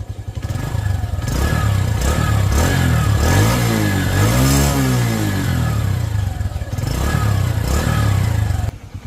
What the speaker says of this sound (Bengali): আমি যদি আপনাদেরকে গাড়িটার স্টার্ট করে সাউন্ডটা দেখাই